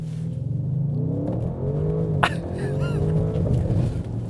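A 2020 Audi RS6 engine revs hard and accelerates, a loud, steady close-up rumble with climbing tones and one sharp crack midway.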